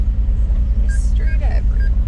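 A McLaren car engine in GTA gives a constant deep, loud low rumble, with a few faint chirps and beeps over it.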